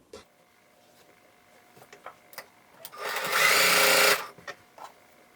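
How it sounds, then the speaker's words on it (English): A sewing machine chain stitches quilt blocks into rows for a beginner star block quilt: after a few light clicks and handling sounds, the motor whirs in one loud, steady burst of about a second, then stops. "So now we are going to sew this into rows."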